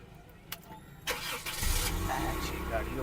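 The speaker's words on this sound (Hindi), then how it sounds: "गाड़ी को करते हैं जी स्टार्ट।" A Honda Civic engine cranks and starts after brake repair work, rising into a steady idle rumble that carries on to the end, with someone talking over it.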